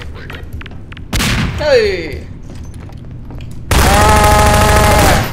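Half-Life 2 gameplay with loud bursts of gunfire, a short blast early on and a longer sustained volley near the end, while a person shouts and talks in between.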